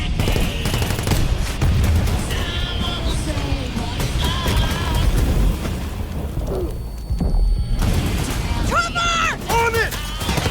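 Sustained automatic gunfire and explosions in a Call of Duty match rattle loudly throughout, with brief lulls, while players shout over the din.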